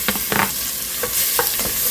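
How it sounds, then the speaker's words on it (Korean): Beef sizzles and is stirred in sesame oil in a pot over low heat, with close scraping strokes of the utensil repeating over a steady frying hiss. "그리고 이제 냄비에다가 다갈다갈 볶아 보도록 하겠습니다."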